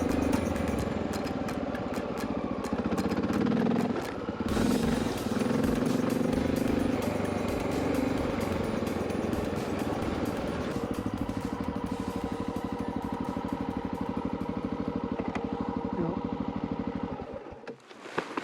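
A 20-year-old dual sport dirt bike is ridden over a bumpy, rocky desert road west of Santa Fe. Its engine drones steadily with rising and falling revs and wind rumble, then cuts out near the end.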